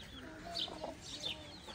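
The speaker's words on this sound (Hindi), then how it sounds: "ये मुर्गी भी है।" A chicken clucks in a few short bursts outdoors at a farm, fairly faint against light ambient background noise.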